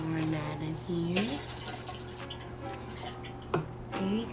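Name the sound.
pouring liquid B minerals into a tower garden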